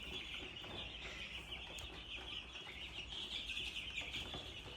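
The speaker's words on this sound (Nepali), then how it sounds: "कुखुराको चल्लाहरू पनि आइसकेको छ" Chickens and young chicks on a farm cluck and cheep continuously, with a dense, faint chorus of high peeping running steadily over a low background hum.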